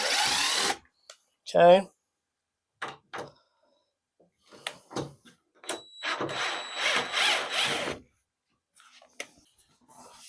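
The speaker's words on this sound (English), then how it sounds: "I'll go ahead and unhook all those screws since we have our marked lines." Power drill backing screws out of a plywood countertop on an L-shaped 2x4 workbench, heard as several short, close whirring bursts separated by silence, with a brief spoken word in between.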